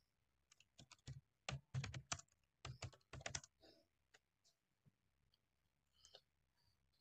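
Typing "initial commit" as a commit message on a computer keyboard: a quick run of close, crisp key clicks in bursts, then sparser taps trailing off, with no talking.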